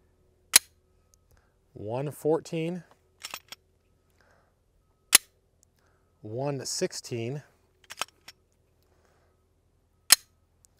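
Suppressed .22LR Glock-size pistol fired through a Dead Air Mask suppressor: three sharp, isolated cracks spaced about five seconds apart, with someone speaking briefly between them.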